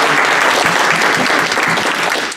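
Dense, steady applause fills a hall at a state Libertarian Party convention, loud and continuous from start to finish with no voice standing out.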